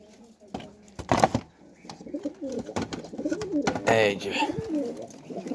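Domestic pigeons caught in 2024 coo in soft, repeated low bursts close by, mixed with someone talking over them and brief rustling movements.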